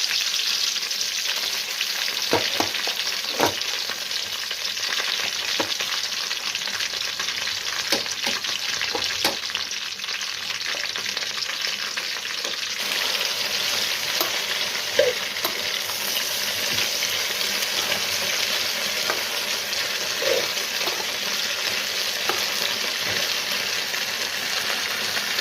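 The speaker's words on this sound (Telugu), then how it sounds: "పచ్చిమిరపకాయ వేగినాక గోంగూర అయితే వేసుకున్నానండి" Gongura leaves and green chillies frying in hot oil for a gongura chicken curry. A steady, loud sizzle runs throughout with occasional stirring scrapes and crackles, and no voices.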